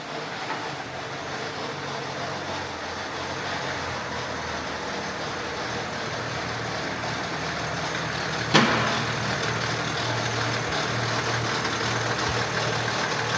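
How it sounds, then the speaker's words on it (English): A BMW X5 engine idles rough with a timing chain rattle, a steady close low rumble with a persistent metallic undertone and a single sharp knock partway through. "The car is running really rough and it's got quite a rattle."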